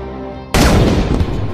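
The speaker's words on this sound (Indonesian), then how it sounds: "Ia menembak kapten pasukan Irak yang sebelumnya itu adalah tugas" A sniper rifle fires in an Iranian war film, one sudden loud blast that cuts in from quiet and trails off in a long, rumbling echo.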